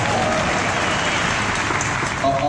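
An audience at a Utah Republican Party organizing convention applauds to vote by sound, a continuous dense burst of clapping with faint voices underneath.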